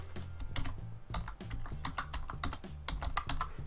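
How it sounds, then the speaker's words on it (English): Someone types on a computer keyboard in a quick, uneven patter of close key taps, with no voice over it. "We're going to click into the search box and type in the word Christmas."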